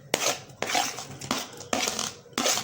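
Chopped onion and green chillies tipped into a bowl, heard as several clattering knocks and scrapes of a utensil against the dish at a steady rhythm, close by and with no talking.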